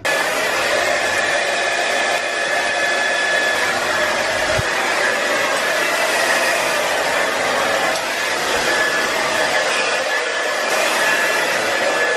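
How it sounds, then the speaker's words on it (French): A hair dryer blows steadily, a loud constant whooshing hum that runs unbroken throughout. "Le sèche-cheveux."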